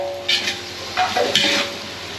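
Onions frying for biryani, a moderate sizzle broken by a few bursts of stirring and scraping in the pan, with no voices.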